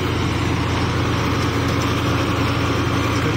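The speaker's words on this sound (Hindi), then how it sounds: "अभी जो कुबोटा का नया ट्रैक्टर लॉन्च हुआ है 50 HP में 5502 वो अभी इसके आगे यूज हो रहा है" A Kubota 5502 50 HP tractor engine runs steadily while powering a thresher, a constant loud mechanical drone with no pauses or talk.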